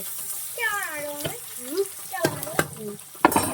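Onions fry in a pan for a home-cooked pulao, giving a soft sizzle and some stirring scrapes, while a voice talks over the cooking sounds.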